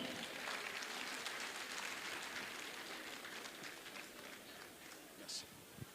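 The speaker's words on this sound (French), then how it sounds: "s'il vous plaît, sous vos applaudissements." An audience applauds at a political party gathering, a dense, steady wash of clapping that gradually thins toward the end, with a few sharper knocks near the close.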